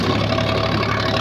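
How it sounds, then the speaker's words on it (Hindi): A 50 HP tractor engine pulling an 11-tine cultivator drones in a loud, steady low rumble, close up and without a break. "आवाज सुन लो ट्रैक्टर"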